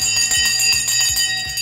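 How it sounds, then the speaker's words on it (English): Stock market closing bell ringing loud and close, a rapid continuous electric clang with bright metallic overtones and no voices over it. "The bell has gone."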